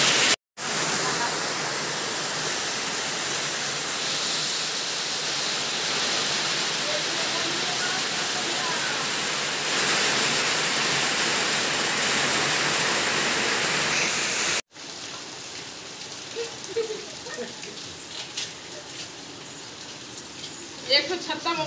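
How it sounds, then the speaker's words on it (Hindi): Heavy, steady rain pours down for about fifteen seconds, loud and close like a downpour, then cuts to a quieter stretch with scattered drips and faint background sounds. "पेपर में ये अखबार में छपी के बिन मौसम बरसात"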